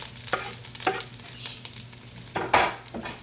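Onions and garlic sizzling in a pan on a propane burner outdoors, a steady frying crackle broken by a few louder scrapes and clatters of stirring, the last one heaviest.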